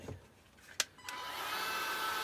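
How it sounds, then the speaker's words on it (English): A DeWalt cordless heat gun used on heat shrink during a bike power cable repair switches on after a couple of clicks, then blows with a steady whooshing fan roar, close and loud. "this might be loud, but it's DeWalt cordless heat gun."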